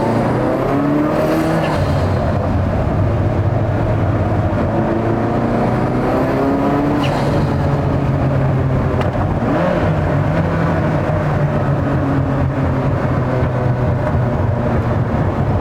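A Ferrari F40 engine floored from 2,000 revs pulls hard at full throttle, its pitch climbing through the revs with a rising turbo whine, loud and continuous.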